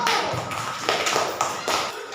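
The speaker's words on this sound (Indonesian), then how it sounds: "kasih tepuk tangan buat kelompok 1" Group applause in an Indonesian classroom for the first discussion group after their presentation, a dense steady patter of many hands clapping at close range, with faint voices mixed in.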